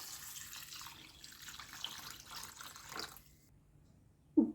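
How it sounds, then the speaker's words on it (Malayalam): Water runs from a tap onto grapes in a bowl, washing them before they are dried into raisins: a steady splashing stream that stops abruptly, followed by a single soft clunk. "ഇതിലേക്ക് വെള്ളം ഒഴിച്ചു കൊടുക്കാം."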